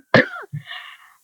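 A man's single harsh, wet cough bursts out loud and close, followed by a shorter second hack and a trailing wheezy breath, with no talking.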